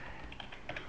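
Keyboard typing and mouse clicking at a computer, a quick run of light, close taps and clicks over a low steady hum, no voices.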